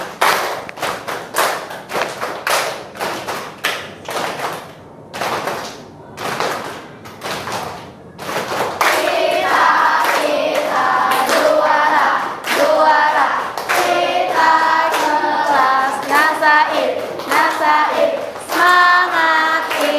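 An Indonesian classroom performs the rhythmic "tepuk juara" clapping chant, sharp separate claps at first, then steady rhythmic clapping joined by children's chanting voices, loud and close.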